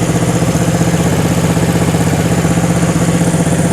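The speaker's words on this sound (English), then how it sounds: "This bike always sounds good. Gonna get the idle up a little bit." A 1974 Honda CB360 motorcycle engine idles up close, a steady, even low putter with a fast regular pulse and no other sound.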